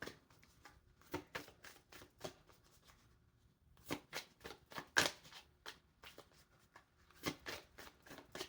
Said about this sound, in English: All right, let's get a guidance card here.